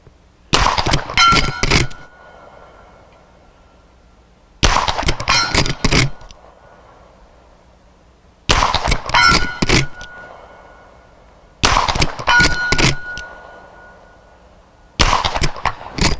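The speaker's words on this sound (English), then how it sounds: "But first, let's ring the gong a few more times." Bullets from a Marlin 1894 lever-action rifle in 45 Colt strike a steel gong in four separate bursts, each a sharp shot followed by a bright metallic clang that rings and decays over a second or two, with quiet gaps between.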